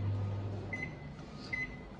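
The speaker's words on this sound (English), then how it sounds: "put it in the microwave and set it on high for about 20 seconds" A microwave oven runs on high while heating eggs, giving a steady low hum throughout with a couple of brief faint tonal chirps, and no voices.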